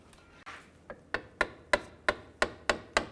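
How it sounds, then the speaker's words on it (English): A hammer taps a metal clamp on a 2003–2007 Cadillac CTS front inner tie rod about nine times in a steady rhythm, each sharp ringing strike close and distinct with no talk. "you can get under there and then tap it with a hammer"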